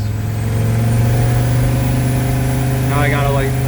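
A diesel Toyota 4Runner climbing a hill under throttle, its engine droning steadily with a low humming note, close and loud, while someone talks over it.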